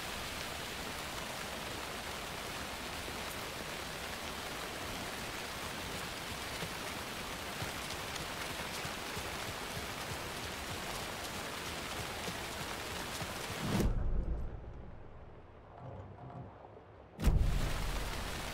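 Steady rain in the video game Alan Wake 2 hisses loudly and evenly, then abruptly drops away into a quieter stretch before a sharp burst returns at the end.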